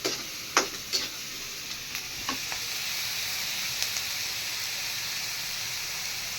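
Masala and curry leaves sautéing in a pan for a Chettinad-style curry, a steady close sizzle with a few sharp spatula taps and pops near the start that then settle into even frying.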